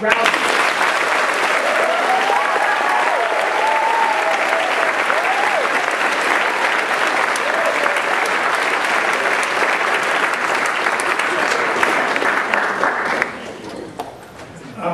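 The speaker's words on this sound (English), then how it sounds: "let's give them all a round of applause" Loud, sustained audience applause for a reading panel at a college first-days event, with some whoops and cheers near the start, running about thirteen seconds before cutting off into quieter room noise.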